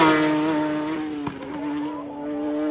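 Superbikes racing at high speed over road bumps on the Isle of Man TT mountain course, one engine screaming loud and sustained with a steady high whine that barely dips as the bike passes.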